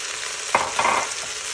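A whole onion hits a hot pan with browned lamb for a stew and sizzles loudly, with two short bursts of stirring over a constant frying hiss.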